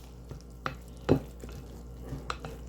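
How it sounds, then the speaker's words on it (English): A spoon works cottage cheese and other cheeses together in a bowl for beef lasagna filling, making a few soft, scattered scrapes and taps, close and quiet, with no voices. "Gotta mix it thoroughly though. We want everything incorporated."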